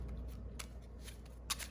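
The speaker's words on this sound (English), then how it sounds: "I'm not trying to shuffle these too much because I know this can get pretty loud." Tarot cards being shuffled close by, a soft steady riffling with a few sharper snaps of cards slapping together.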